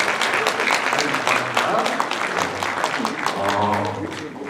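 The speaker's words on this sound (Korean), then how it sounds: "우리 이 두 분께 뜨거운 박수 부탁드리겠습니다." Audience applause at a book concert and publication celebration, steady dense clapping throughout with voices talking over it and a low hum underneath.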